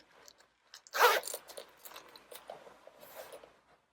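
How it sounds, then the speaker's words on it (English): A zipper is drawn up a soft vegan leather jacket: one loud rasping pull, then several quieter scrapes and rustles of fabric, close and clear, with no talking. "Let me zip this up for you."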